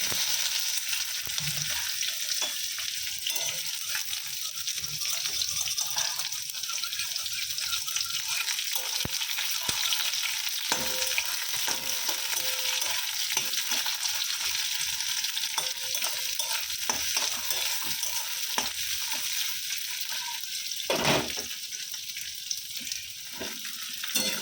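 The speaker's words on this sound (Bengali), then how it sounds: "এখানে 5 ফোড়ন, লঙ্কা দিয়ে দিলাম, আর এখানে পেঁয়াজ আর রসুন কুচিয়ে নিয়েছি" Panch phoron, chili, chopped onion and garlic sizzle in hot oil with a continuous loud crackle, broken by occasional stirring scrapes, and no talking.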